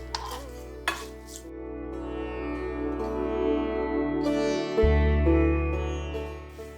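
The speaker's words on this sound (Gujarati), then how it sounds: "પોંગલમાં નાખીએ છીએ અને સારી રીતે અમે ચલાવી લઈએ છીએ" A spoon stirring hot cashew tempering into pongal in a pan, with a couple of sharp metal clinks followed by sustained sizzling and scraping, close and clear.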